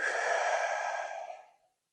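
A long, steady exhale through the mouth after a held breath during a breathing exercise, breathy and close, fading out after about a second and a half with no talk.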